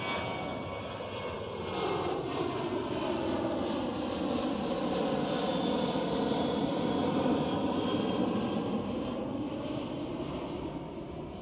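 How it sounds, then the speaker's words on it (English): An aircraft passes overhead near Amsterdam Schiphol airport with a broad, steady engine roar that swells slightly and holds, the tone shifting as it crosses above, with no talking. "an aircraft flying overhead"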